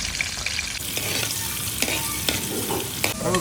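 Carrots stirred and sautéed in sunflower oil in a cooking pot while making mutton bukhari: a steady close sizzle of frying, with spoon strokes scraping and clinking at intervals and no talk.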